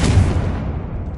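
A Confringo explosive spell in Hogwarts Legacy goes off as one loud, close, deep blast that rumbles and slowly fades over about a second.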